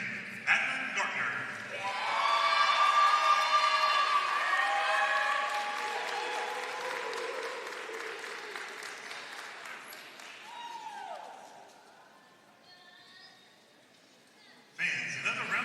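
Crowd applause fills a gym at a Conference Carolinas women's volleyball tournament, swelling quickly, holding steady, then fading out over about twelve seconds, with a voice on the public-address system cutting in near the end.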